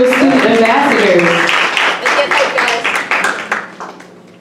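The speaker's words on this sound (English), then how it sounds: "clap it up for the Nyumburu Student Ambassadors" Audience clapping at a university student awards ceremony, honoring a group of student ambassadors; steady applause at first that thins and fades, with voices audible underneath.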